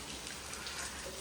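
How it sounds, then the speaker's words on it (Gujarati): Rain falls steadily in a soft, even hiss, faint and continuous, with no voices over it. "બારિશ ચાલુ હો ગઈ છે."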